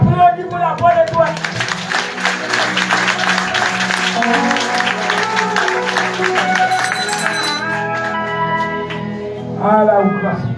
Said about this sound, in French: Applaudis pour la bonne étoile.